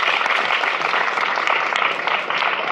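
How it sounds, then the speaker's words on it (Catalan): An audience applauds steadily and fairly loudly at an education event, a dense continuous patter of clapping with no pauses and no voices over it. "els demano un aplaudiment per a ells"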